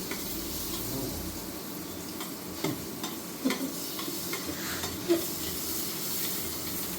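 Butter melting and frying in oil in a pan, a steady broad sizzle and hiss close by, punctuated by a few light clicks and taps of a utensil stirring against the pan.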